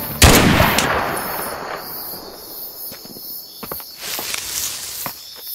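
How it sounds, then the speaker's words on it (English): Mortar fire in the game Mud and Blood: a loud blast opens, followed by scattered smaller impacts and crackles over a steady high insect-like drone. "Mortars!"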